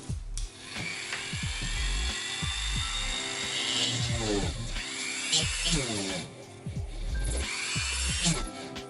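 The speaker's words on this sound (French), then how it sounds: "J'essaie de faire des petits trous partout." A whining handheld power drill bores small holes in resin, its pitch rising and falling in bursts across the span with buzzing grind, fairly close and loud, while a person speaks intermittently underneath.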